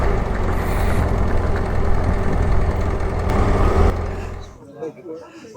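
A vintage 1996 CR motorcycle warming up at the Enduropale Vintage beach race in Le Touquet: the engine runs with a steady, close idle and rumble for about four seconds, then cuts out, leaving faint voices and background noise.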